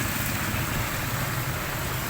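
Rain falls in a steady, even hiss that continues without a break.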